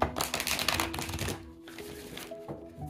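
Tarot cards being shuffled by hand, a dense run of quick papery riffles and soft flicks in the first half, fading into quieter rustles with faint room noise toward the end.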